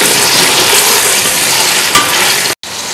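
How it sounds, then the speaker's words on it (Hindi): Peas stirred into vegetables frying in a pan for veg pulao, a loud steady sizzle with a brief scrape near the end before a short cut, close up with no voices. "अब मटर डाल दें और इसको तकरीबन 1 मिनट बस मिक्स कर दें।"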